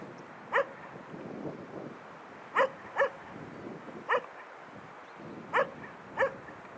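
An old dog barks six times at irregular intervals, single and paired barks standing out over a low, steady outdoor background on a road to Shushpa, Beloretsky District, Bashkortostan.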